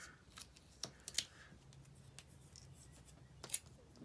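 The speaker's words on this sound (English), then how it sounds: "I'm going to trim these away from this side over here." Scissors trim paper for a scrapbook layout, giving a few quiet, crisp snips spaced apart against a faint room hiss.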